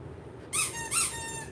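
A squeaky toy rocket squeezed twice in quick succession, giving two bright, loud squeaks close by over a quiet room.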